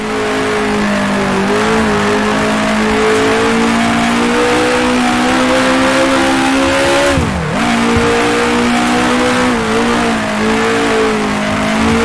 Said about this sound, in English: come over the top of the hill, down to third gear